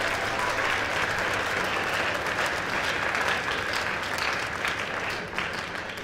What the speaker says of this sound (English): Let's give a round of applause to our 8th grade concert band and wind ensemble.